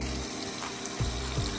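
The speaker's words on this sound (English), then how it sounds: "I have the water running here" Steady stream of water running from a kitchen tap while preparing black beans, a continuous close rush with a couple of slightly louder splashes near the end.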